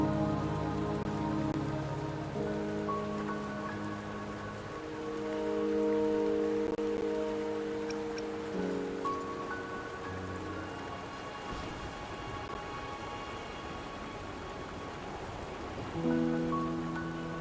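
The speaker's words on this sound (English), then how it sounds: "Don't worry, the rain won't last much longer." Steady rain falling in the video game Wuthering Waves, soft and continuous, blended with sustained game music tones throughout and no voices.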